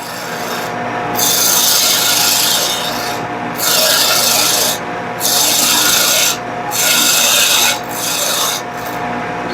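A parting tool scrapes into spinning wood on a lathe to cut a tenon, giving loud raspy bursts of a second or so that repeat five times with short pauses between them.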